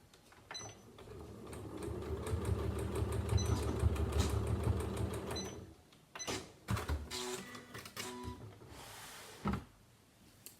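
A sewing machine stitching very close to the edge of a drawstring knitting bag, a close steady motor whir for about six seconds, then short bursts of stitching broken by clicks and handling noises.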